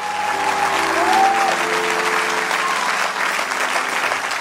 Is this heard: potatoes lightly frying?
no